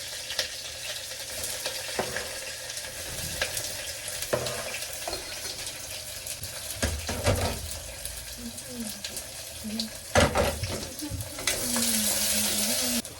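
Green chillies and chopped onion fry in a pan, giving a steady close sizzle broken by stirring clatter and occasional sharp spikes, with someone talking over it at times.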